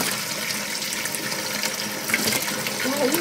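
Cold water running from a tap into a vessel during home cooking of a local dish in Fujiyoshida, Yamanashi: a continuous close splashing gush that holds steady throughout and rises slightly near the end.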